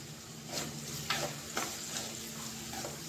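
Ivy gourd (kasarakaya) frying in a pan with salt and curry leaves, giving a steady close sizzle broken by a few soft scrapes of stirring, with no talking.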